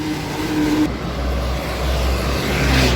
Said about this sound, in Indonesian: Truk gandengan 1521.